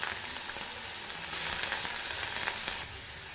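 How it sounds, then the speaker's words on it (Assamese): Garlic and onion fry in mustard oil in a wok with a bright, even sizzle and light stirring, nearby and without speech, then the sound drops slightly near the end. "আৰু কেঁচা জলকীয়া অলপমান দি 1 মিনিট সময় ভাজি ল'ব"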